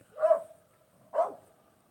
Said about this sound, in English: He barks and it echoes off the canyon wall over here, off the wall over here, and then off the wall on the other side.